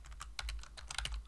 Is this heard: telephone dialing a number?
no